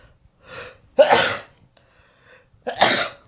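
Two sneezes, each preceded by a sharp inhaled gasp, close and loud, with a quieter breathy lead-in before the first.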